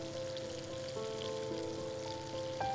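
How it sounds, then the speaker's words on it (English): Paneer-stuffed mushrooms are basted with hot butter in a pan, giving a soft, low crackling sizzle with faint utensil tones, quiet and close. "So now, I'm just basting our stuffed mushrooms so that the filling gets cooked"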